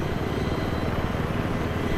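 A helicopter in the Battlefield 3 multiplayer game, Armored Kill map, gives off a steady, close rotor drone with fast low thumping throughout, with no voices over it.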